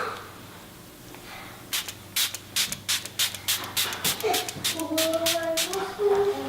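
Makeup Forever Mist and Fix setting spray is misted onto a face in a quick series of about fifteen short, sharp hissing pumps, close and fairly loud, with a voice starting to talk toward the end.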